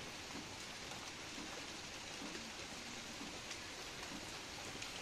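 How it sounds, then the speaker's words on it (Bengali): Afternoon rain falls steadily outside a window overlooking a small pond behind a house, a soft, even hiss of drops with no break. It sounds faint and distant, with no voices. "এই দুপুরের পর থেকে বৃষ্টি নেমেছে"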